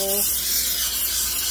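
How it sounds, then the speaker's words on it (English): A steady, close hiss of olive oil cooking spray from a can onto a pan runs through the whole moment, with a brief low tone fading out at the start. "I'm just going to spray my pan with some olive oil."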